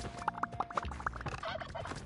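Turkey gobbling in the video game Spelunky 2, a short run of rapid warbling calls repeated several times over about two seconds, fairly close and moderately loud over faint background game sound.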